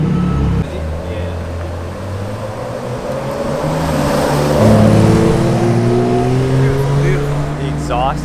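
A Porsche Turbo S exhaust drones and revs at a car-week gathering, a loud steady engine note swelling midway with rising harmonic whine, while crowd noise and chatter carry underneath.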